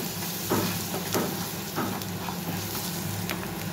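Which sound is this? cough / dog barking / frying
frying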